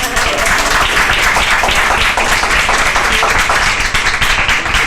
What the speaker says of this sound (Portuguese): Queria mais uma vez uma salva de palmas para os três.